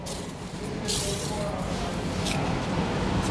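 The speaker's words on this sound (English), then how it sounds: "we're going to put a light mist of product onto the headliner." Mopar fabric protector misted onto a car headliner, short bursts of hissing spray rising over a steady rushing background, close by and fairly soft.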